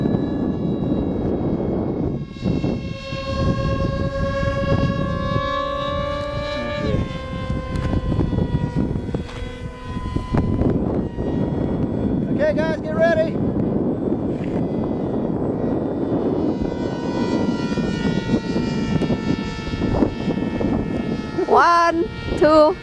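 A model aircraft taking off in a crosswind, its motor whining in rising and shifting tones against gusty wind noise on the microphone, with voices talking over it at times.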